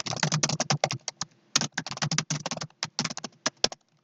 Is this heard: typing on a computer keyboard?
yes